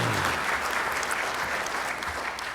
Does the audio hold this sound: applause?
yes